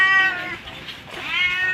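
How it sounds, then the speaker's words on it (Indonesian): A cat meows twice near a sacred tomb of Sultan Mahmud Zakaria on Pulau Panjang in the Kepulauan Seribu islands, two clear, close, plaintive calls with a short pause between them. "suara kucing mengeong menyambut kehadiran kami"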